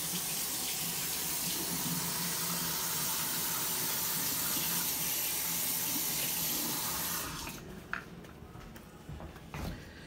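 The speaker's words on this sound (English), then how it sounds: "Just wash my hands again." Hands are washed under a running sink tap, a steady loud rush of water for about seven seconds, then the flow stops and a few light splashes and drips follow.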